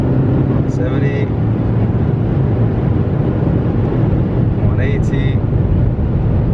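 Interior of a 2020 BMW 520d M Sport driving fast on the German Autobahn, a constant loud low road and engine drone with wind noise, with a voice talking briefly over it.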